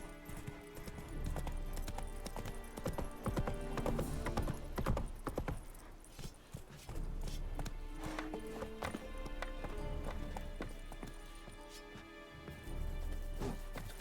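Roach, Geralt's horse in the video game The Witcher 3, gallops with continuous, quick hoofbeats and an occasional whinny over a busy in-game background.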